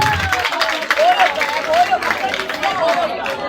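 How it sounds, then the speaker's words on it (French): Students in a classroom at an institute clap and call out together, a dense babble of applause and voices with some whistling tones, close and steady throughout. "Applaudissez pour vous-même."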